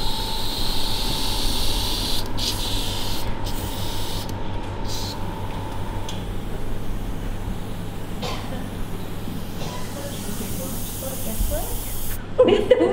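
An airbrush gun being cleaned out gives a continuous airy hiss of spray through most of the stretch, steady and close, with a few brief breaks while people talk over it.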